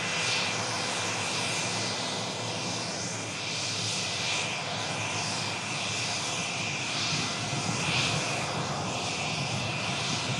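An airplane's engines roar steadily and loudly at Manchester Airport, a continuous broadband drone that fills the whole stretch without a break.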